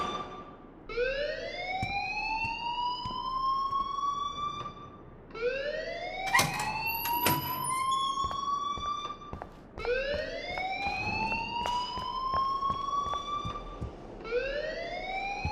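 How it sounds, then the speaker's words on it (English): An electronic alarm rings at Blackwell Academy in the game Life is Strange, wailing in rising sweeps that repeat about every four seconds, loud and steady, with no talking. "please turn off that alarm since that's your job"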